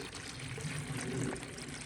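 Water pouring steadily from a container into a livestock feeding bucket outdoors for a pet buck deer, a continuous splashing stream lasting a couple of seconds, close by with no voices.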